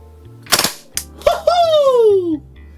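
Short bursts of gas blowback fire from a Kingdom Tec-9 KG-9 airsoft SMG, loud sharp cracks in two or three quick clusters, followed by a rising whoop-like voice exclamation.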